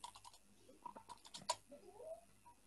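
A computer keyboard being typed on in a run of quick, light key clicks at close range and low volume, with one sharper tap partway through.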